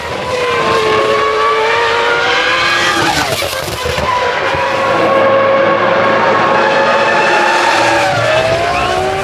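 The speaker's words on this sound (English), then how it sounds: "Hakkinen powers down the start-finish straight to assume the lead" A Formula 1 car from the 2001 season races down the start-finish straight, its high-pitched engine screaming loud and close, the pitch sweeping upward through the gears with a brief dip midway.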